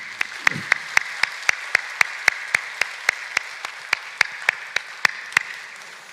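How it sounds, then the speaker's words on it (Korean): Congregation at a Thanksgiving church service claps in rhythm, a loud, steady series of sharp beats repeating at an even pace from start to finish. "우리 모든 분들께 감사의 박수 드립시다."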